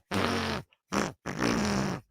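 A voice imitates a fart, with three wet, buzzy blasts in close succession: a long one, a short one, then a longer drawn-out one, loud and close.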